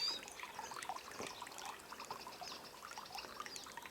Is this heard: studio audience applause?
no